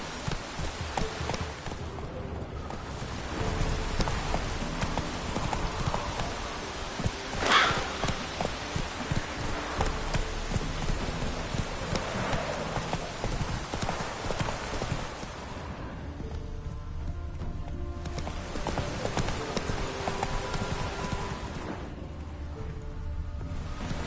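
A horse gallops with clip-clop hooves through the open world of the video game The Witcher 3: Wild Hunt. Steady hoofbeats run throughout, blended into a dense wash of rain-like ambient game sound with no quiet gaps.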